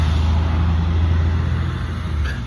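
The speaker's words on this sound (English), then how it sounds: "School bus." A school bus passes on a road with a low, steady engine rumble and broad traffic noise. It is fairly loud throughout, fades slightly near the end, and no one speaks.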